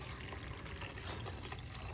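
Water poured into a pot of lentils while cooking, a steady, soft splashing pour that runs continuously and sits fairly quiet and close, with no talk.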